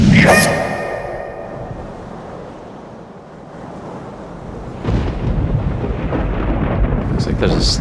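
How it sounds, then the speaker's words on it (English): Storm weather with thunder: a deep rumble swells and fades as wind buffets the microphone. A sharp crack opens the scene, and a heavier roar of wind or rain surges in near the middle and holds to the end. "There's a storm coming in."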